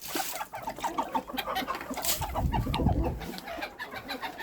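Chickens clucking in a farmyard, including a formerly broody hen, with a steady stream of soft overlapping clucks and scratching noise at close range, no clear talk.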